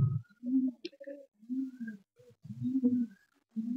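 Pigeons, kept fancy breeds such as Kalsira, Kaldom and Giribaj, give several low, repeated coos in short bursts, close by and moderately loud, with a faint chirp partway through.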